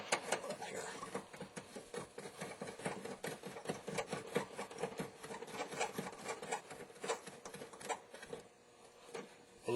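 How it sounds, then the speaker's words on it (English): Screws being hand-tightened into a Ford Taurus light housing make a steady stream of close, dry rasping and scraping clicks that runs through the whole stretch, with no talking. "Then you can go ahead and hand tighten the following two on."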